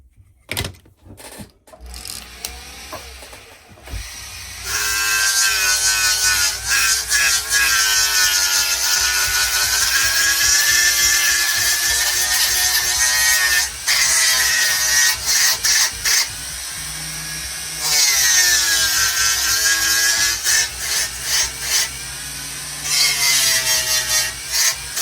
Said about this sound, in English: I'm going to take my fine grit flap wheel.